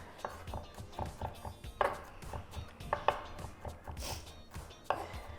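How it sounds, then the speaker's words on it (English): A knife minces two whole garlic cloves on a cutting board in quick, irregular chops, sharp close taps coming in bursts with short pauses, fairly quiet and without talk. "I've got 2 whole garlic cloves. I'm gonna go ahead and mince that."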